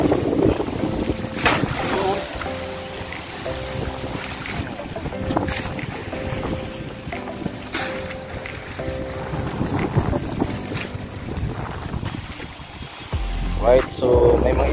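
Strong wind and waves batter a small fishing boat at sea, with a constant roar of wind buffeting the microphone and rushing water around the hull, loud and unbroken throughout.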